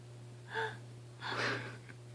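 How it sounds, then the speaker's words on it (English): A 3.5-year-old boy's hiccups, two short breathy catches about three-quarters of a second apart, close and fairly soft over a steady low hum. "I still have hiccups"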